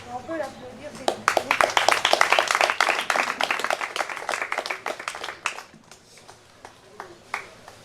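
An audience at a cultural day and gift-giving event applauds for Lina, a sharp burst of many hands that rises quickly, holds strong for several seconds, then thins to scattered claps, with voices briefly heard at the start.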